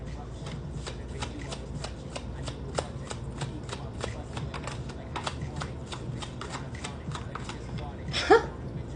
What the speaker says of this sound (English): when I was shuffling my cards